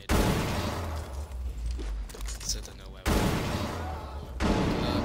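Grenade blasts in Rainbow Six Siege go off in loud, dense bursts, one at the start and another about three seconds in, with a crackling, gunfire-like roar that carries on between them and a third surge near the end.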